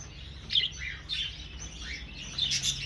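Budgerigars in a breeding aviary chirp and warble in quick, scattered bursts, fairly close, over a faint low hum, with no one talking.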